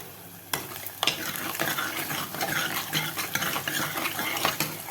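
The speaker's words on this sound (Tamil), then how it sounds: "வெங்காயமும் வெள்ளைப்பூடும் பார்த்திங்கன்னா நல்லா வதங்கி வாசனை வர ஆரம்பிச்சிருச்சு" Onion and garlic sauté in a pan for a prawn curry, with a soft steady sizzle and repeated sharp scrapes and clinks of a spoon stirring against the metal, close up and with no talking.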